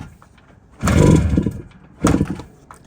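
A Yamaha RD400 two-stroke motorcycle engine almost fires twice, giving two brief, rough sputtering bursts separated by a short pause and heard close up.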